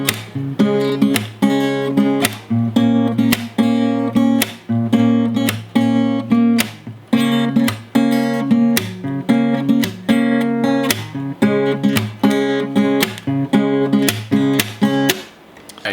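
Acoustic guitar strums the chords of a song in a steady, repeating pattern: loud, close, crisp strokes fall in regular rhythmic bursts with brief gaps between chord changes.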